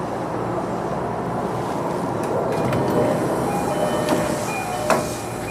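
A train arriving at Okutama Station in Tokyo, the westernmost station in the city: a continuous close rumble of wheels on track with faint brief metallic squeals and clicks near the end.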